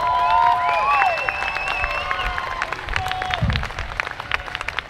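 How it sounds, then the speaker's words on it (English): Applause at Iolani Palace welcoming a musician, a moderate crowd clapping steadily at some distance, with whistling tones and scattered cheers over the clapping as it slowly tapers. "please help me to give a big round of applause"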